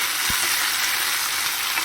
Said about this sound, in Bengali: আমি সম্পূর্ণ রেসিপিটা যা যা ইনগ্রেডিয়েন্টস আছে সব একদম ভাজা ভাজা করে নেব